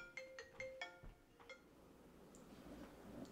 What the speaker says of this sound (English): and her phone rings.